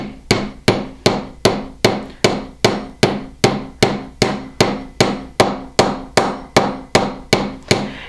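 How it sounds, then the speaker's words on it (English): A small fine silver ring is hammered flat on a steel bench block: sixteen evenly spaced, sharp metallic taps, about two per second, each ringing briefly before the next. "the small ring I'm going to place on my bench block, and I'm just going to hammer this one flat"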